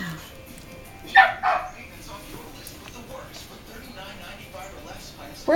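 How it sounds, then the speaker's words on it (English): Young Goldendoodle puppies, about two and a half weeks old, give a couple of brief high whimpers and yips close by, with soft talking and household noise around them. "Sounds like Sammy wants to come back in."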